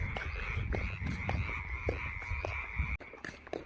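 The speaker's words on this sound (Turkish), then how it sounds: "Kurbağalar da iyi ötüyor ya buralarda." A steady chorus of frogs croaking outdoors at night in the countryside beside a field, a continuous high trill with repeated lower croaks pulsing throughout, fairly close and loud.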